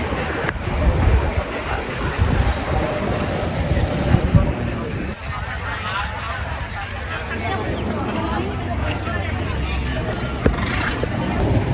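Continuous engine rumble and rushing water from a moving river boat in Bangkok heading to the Grand Palace, with a babble of passengers talking throughout.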